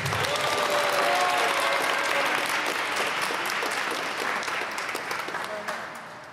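Applause from a crowd at a freediving competition award ceremony in Nizhny Novgorod, steady clapping that swells early and then gradually fades out, with faint voices mixed underneath.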